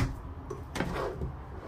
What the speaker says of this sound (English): more storage here, which is on a nice sliding drawer.